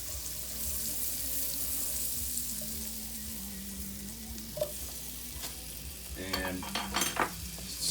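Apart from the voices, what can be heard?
stirring butter and mushrooms in a pan on low heat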